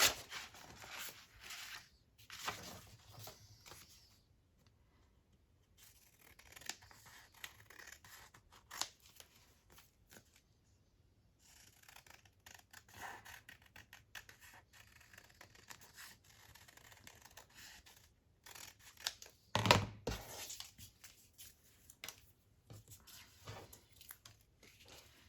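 Scissors trim a paper craft piece for a trifold journal pocket, with repeated quiet snips and rustling of the paper. The cutting is close and fairly faint, coming in scattered bursts separated by brief silences.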